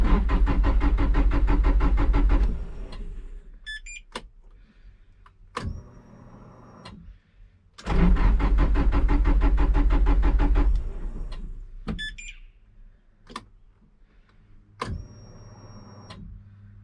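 A Nissan 180SX with an electric boost and its exhaust unbolted cranks in two long, loud, droning bursts, each dropping to a rough, lower idle with sharp clicks and ticks in between, heard close up without talk.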